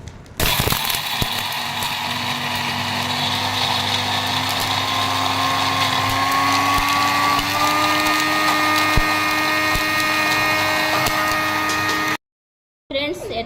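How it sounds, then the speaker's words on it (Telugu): A kitchen mixie grinder whirs steadily and loudly while grinding spices with salt for Telangana tomato pickle, its motor pitch rising slightly over time before it cuts off abruptly near the end. "మిక్సీ పడుతున్నా ఫ్రెండ్స్."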